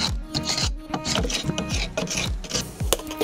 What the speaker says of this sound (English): The first step was to scrape off as much old paint as possible.